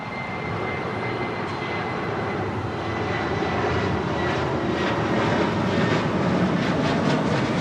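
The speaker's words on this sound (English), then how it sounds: "Now rolling is Sun Country Airlines, Flight" A Sun Country Airlines jet rolls for takeoff at Los Angeles International Airport, its engines a loud, broad roar that swells steadily as it accelerates down the runway at a distance.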